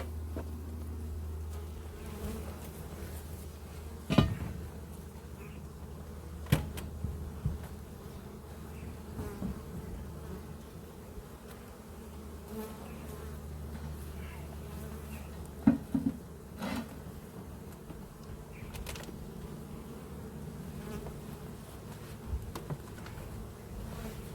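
Honey bees hum steadily around an opened hive, a close continuous drone with occasional knocks and taps from handling the hive box, no talking.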